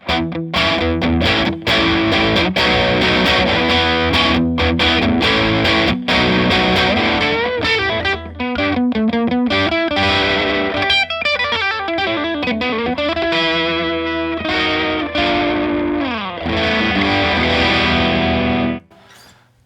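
Distorted electric guitar plays crunchy rock chords and riffs through a Vox Bruno TB18C1 tube combo amp, loud and continuous before cutting off near the end.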